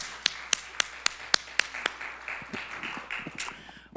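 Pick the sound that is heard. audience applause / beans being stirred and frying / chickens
audience applause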